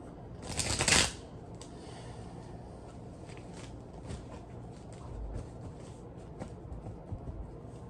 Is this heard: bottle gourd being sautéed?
no